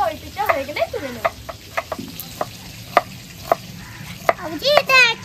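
Bhetki fish frying in a pan with a continuous sizzle, punctuated by scraping stirs and a few clinks, while people talk over it.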